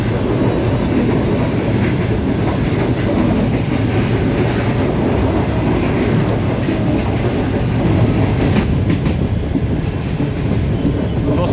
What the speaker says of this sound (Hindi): 28 डाउन शालीमार एक्सप्रेस गोजरा शहर में दाखिल हो चुकी है